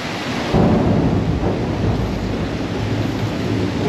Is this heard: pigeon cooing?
no